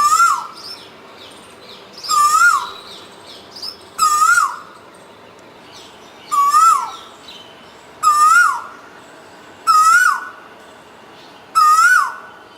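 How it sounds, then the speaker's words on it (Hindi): An Asian koel sings alone in a rising, whistled call, repeated about six times at a steady interval of roughly two seconds. Each call is clear and fairly near, with other birds chirping faintly in the background. "तो आइए पहले कोयल को सुनते हैं"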